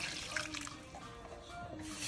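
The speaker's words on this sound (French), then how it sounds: "Donc je rajoute l'eau." Water poured into a pot over cut cassava pieces for a stew, a short close splashing and trickling stream, fairly quiet and alone.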